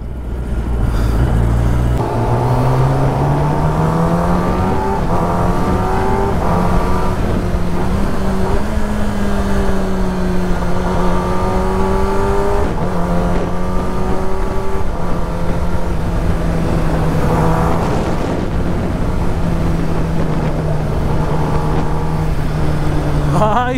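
A Kawasaki ZX-10R sport motorcycle on its stock exhaust cruises through city streets, its engine a continuous, fairly muted drone whose pitch climbs and settles with throttle changes, with wind and traffic noise around it.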